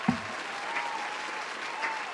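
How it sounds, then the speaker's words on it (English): An audience applauds steadily, a dense wash of clapping at moderate volume that continues throughout. "Can we just get a round of applause?"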